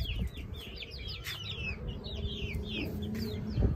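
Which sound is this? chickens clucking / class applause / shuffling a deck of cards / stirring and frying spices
chickens clucking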